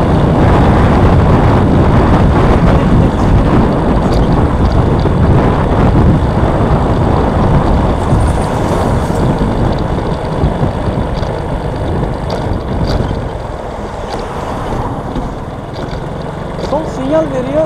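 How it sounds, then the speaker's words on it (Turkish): Dolmuş minibuses rumble past on a busy Izmir street in Bayraklı, a steady loud engine and traffic roar that eases slightly toward the end, with a faint voice briefly audible. "dolmuşları duyuyorsunuz sesleri"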